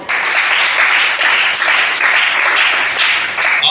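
An audience applauds at a French-language religious gathering, a dense, loud, continuous wash of many hands clapping with a slightly pulsing rhythm, heard alone.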